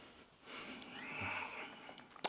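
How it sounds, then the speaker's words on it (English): Someone takes a long nasal sniff of Tom Ford Italian Cypress fragrance on a paper scent strip, a breathy inhale lasting about a second, then a sharp click at the end. "let's sniff it out"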